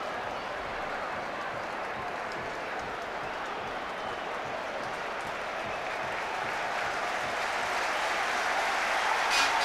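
Football crowd at a 1999 league match murmuring and roaring steadily after a shot hits the side netting, a broad continuous swell of many voices with scattered applause, under a commentator's voice.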